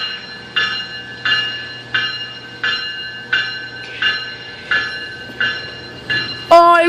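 A subway train rolls through Danforth station on the Toronto rail line, a 4000 series car among them, with a steady run of rhythmic wheel clacks over rail joints roughly every seven tenths of a second and a sharper screech at the end.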